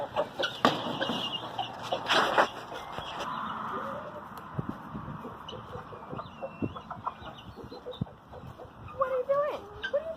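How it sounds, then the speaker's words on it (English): A single backyard hen clucks in short bursts amid garden noise, with someone talking over much of it at close range. "There's literally one hen, and she thinks she's the rooster"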